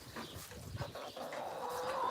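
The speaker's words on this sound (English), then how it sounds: "The chickens will not shut up." Farm chickens clucking and squawking close by in a barnyard with other livestock, a busy, continuous stretch of bird calls with no talking.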